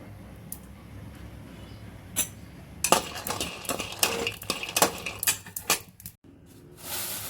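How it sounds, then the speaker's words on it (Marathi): Peanuts roasting in a pan on the stove, stirred with clattering, scraping metallic clinks that come in bursts and grow busier midway, with a brief pause near the end. "इकडे मी शेंगदाणे भाजत ठेवलेले आहेत तोपर्यंत शेंगदाणे भाजून घेऊया आपण"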